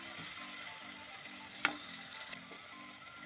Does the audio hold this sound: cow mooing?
no